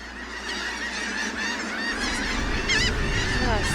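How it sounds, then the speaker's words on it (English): A massive flock of red knot shorebirds calls from a sandy Delaware Bay beach at Norbury's Landing, New Jersey, a dense, continuous chatter of overlapping calls, moderately near and fairly quiet, with no talking. "Pamela McKenzie peers through her binoculars at a massive flock of shorebirds"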